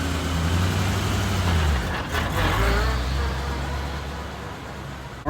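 A 1986 Corvette with a manual gearbox idles and rumbles steadily from inside the cabin, a loud low engine drone with a brief dip and swell as it is worked, no talk over it.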